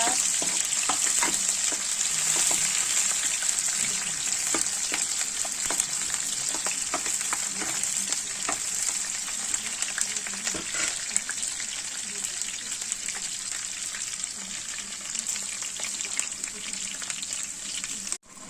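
Two chopped onions, about 60% browned, fry for a chicken curry, giving a loud continuous sizzle with occasional stirring scrapes and a high hiss that runs until an abrupt stop.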